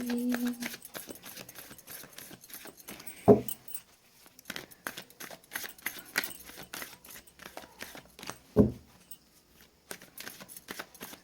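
A deck of tarot cards is shuffled by hand with close, soft papery riffles and rustles, broken by a couple of sharper taps.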